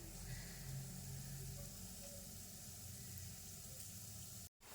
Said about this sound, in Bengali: আঁচটা সিমে করে আমি কচুরিগুলো ভেজে দিচ্ছি